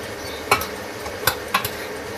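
Lamb curry being stirred in a pot as it fries: three distinct scraping clinks of a spoon against the pot over a low, steady background.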